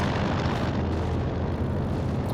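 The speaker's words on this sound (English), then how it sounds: "The last passes from the IL-2s." Soviet IL-2 ground-attack planes make strafing passes in Company of Heroes 2, a dense, continuous rumble of engines and explosions that lasts the whole stretch.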